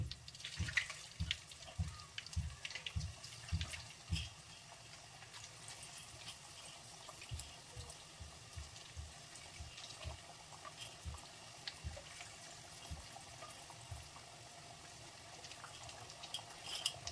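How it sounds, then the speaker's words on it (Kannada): Chicken kebab pieces slipped one at a time into hot cooking oil, giving a steady, close sizzle and crackle with soft bubbling that carries on throughout without talk. "ಇವಾಗ ಇದಕ್ಕೆ ಎಣ್ಣೆ ಕಾದಿದೆ ಆಲ್ರೆಡಿ. ನಾನು ಇವಾಗ ಇದಕ್ಕೆ ಒಂದೊಂದೇ ಬಿಟ್ಟು ಹಾಕ್ತೇನೆ."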